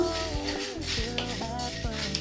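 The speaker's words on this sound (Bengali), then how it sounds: "একটু নাড়াচাড়া করে নেব" Whole coriander seeds toast in a pan for a vegetarian curry while a spatula stirs them, giving several distinct scraping clinks against the pan over a soft, continuous sizzle and a steady tonal background.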